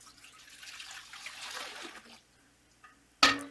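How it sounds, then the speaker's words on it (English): Raw, unpasteurized goat milk is poured into a cheese pot with a soft, trickling flow that fades to quiet, then a sharp clank at the end. "Okay, time to put the milk in."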